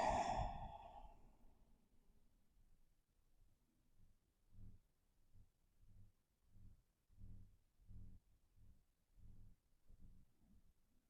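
After one loud sigh-like exhale, slow deep yoga breaths follow in a steady rhythm, about ten soft, close, regular breaths with nothing else heard.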